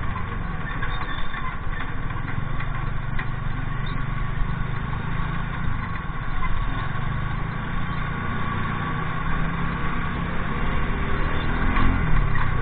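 Engine of a TVS Ntorq scooter running steadily and fairly close, a continuous low droning hum with a slight rise near the end, no talk over it.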